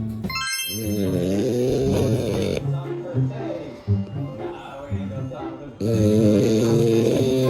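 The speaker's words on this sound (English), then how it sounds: "no one snores more than an unemployed Frenchie" French bulldog snoring loudly up close, long raspy rumbling breaths with a wheezy, nasal quality, repeating through the clip with brief pauses between.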